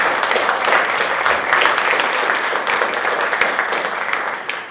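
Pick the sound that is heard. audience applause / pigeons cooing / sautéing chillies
audience applause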